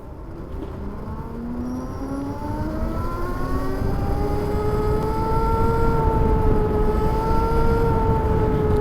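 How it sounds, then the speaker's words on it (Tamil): An Ola Roadster X electric motorcycle with chain drive rises in a steady whining howl as it accelerates, the pitch climbing and then holding, continuous and fairly loud over broadband rolling and wind noise. "செயின் டிரைவ் தான், அதோட சவுண்ட் கொஞ்சம் வருது"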